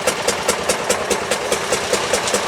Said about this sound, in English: So this is a rail car which might have given rise to the name PuttPutt.